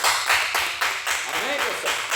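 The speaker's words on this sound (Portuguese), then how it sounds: "Desocupa a tua mão e dê uma linda salva de palmas. Faz palmas." Congregation at a Thursday evening church service clapping in a steady rhythm, crowd palms beating together, while a speaker's voice carries over the top.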